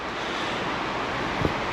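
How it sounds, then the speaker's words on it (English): Rain on a tin roof during a skid steer repair, a steady broadband hiss-like patter that is even and continuous, fairly loud, with no distinct drops standing out. "Rain on a tin roof."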